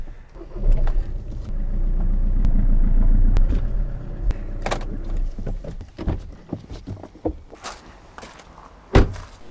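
A Skoda Superb II estate with high mileage rolls slowly onto plastic sheets, a low engine rumble building then easing, followed by crinkling, thumps and footsteps nearby; no speech.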